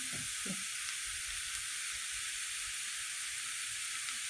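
Rice and ingredients for a soup frying in a pan, a steady close sizzling hiss throughout with a couple of faint low knocks near the start.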